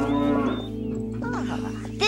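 A cow moos on a farm, close and clear, with a drawn-out low call followed by shorter lowing sounds and faint farmyard noise in the background.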